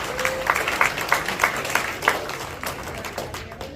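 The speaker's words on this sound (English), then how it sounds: "How about a round of applause for all 3 of these guys?" Scattered audience applause at a Rotary Club meeting, uneven clapping with distinct individual claps that rise and then thin out over a few seconds, somewhat close.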